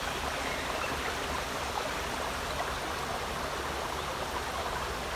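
Water rushes steadily in a stream near a holiday park by the sea, a dense continuous hiss that stays even and fairly loud throughout with no voices.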